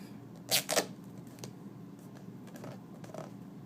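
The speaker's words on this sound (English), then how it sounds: "all we have to do is rip it off." Duct tape ripped off a cardboard base: two sharp tearing bursts close together, then a few fainter crinkles and handling noises.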